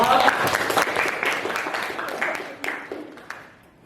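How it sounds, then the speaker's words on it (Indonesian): Lively applause from an audience for group 2 at a PGRI Madiun University teacher-training performance session, loud and full at first, then gradually fading as individual claps trail off. "Beri tepuk tangan yang meriah untuk kelompok 2."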